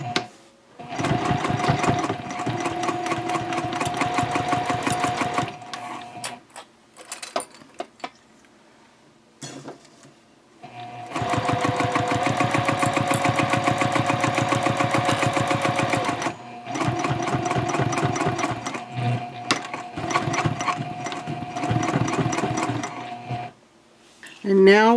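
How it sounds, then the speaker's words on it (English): Sewing machine top stitching a fabric eco-friendly shopping bag through all layers with a narrow foot, stitch length 3.0; three long bursts of rapid, steady motor hum and needle clatter, separated by short pauses. "I'm using the narrow foot on my machine to do the top stitching"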